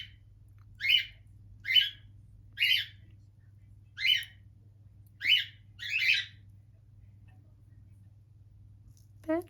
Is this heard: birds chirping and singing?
yes